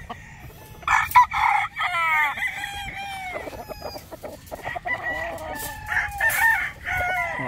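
A young gamefowl rooster crows repeatedly, with several strained, rising cock-a-doodle calls in quick succession and some clucking between them, close by and fairly loud.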